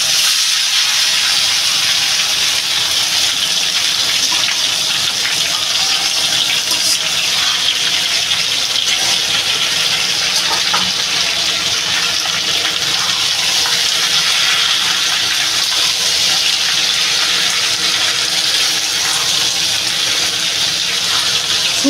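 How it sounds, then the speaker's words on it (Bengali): Vegetables are poured into a pan while cooking Bengali shukto, giving a steady, loud, unbroken sizzling hiss throughout. "এবার আমি সবজিটা পুরো ঢেলে দেবো।"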